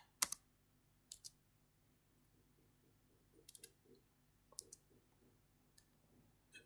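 Sparse bursts of key clicks on a computer keyboard as an SQL select command is entered, short clusters of taps separated by pauses, faint and close over a quiet background hum.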